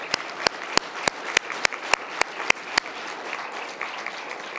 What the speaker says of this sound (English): So please give me one more round of applause for them.